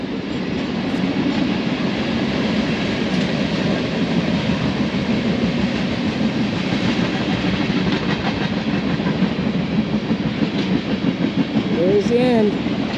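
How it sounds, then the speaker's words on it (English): A freight train rumbles and clatters past nearby in Winslow, Arizona, in a steady, continuous roar, with a brief metallic squeal of wheels near the end. "Oh, I see the end of the train."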